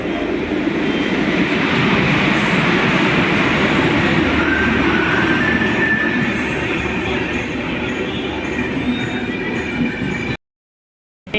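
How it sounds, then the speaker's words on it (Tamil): A train rumbles steadily along the rails into a station, its wheels screeching in thin high squeals as it rolls in, loud and close, then cuts to silence. "ட்ரெயின் வந்துருச்சு"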